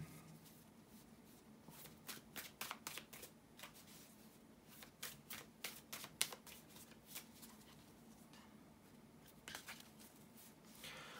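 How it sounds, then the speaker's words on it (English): Tarot cards are shuffled steadily and close up, a rapid papery riffling that repeats in bursts against a low background hum. "bear with me a second guys to shuffle the tarot cards"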